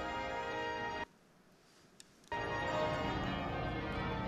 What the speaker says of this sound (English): What a wonderful sound those bells can be heard all over the city of London.